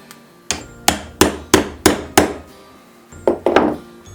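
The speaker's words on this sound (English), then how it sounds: "So I'm just going to get my chisel in here and try to take these spots out without deforming the wood too much." Mallet striking a chisel on a glued wooden turning, with about six sharp, close knocks in a steady series, a pause, then three more quick blows.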